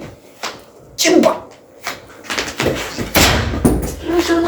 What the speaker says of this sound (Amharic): የሰውን በር ሰበራችሁ ዛሬ።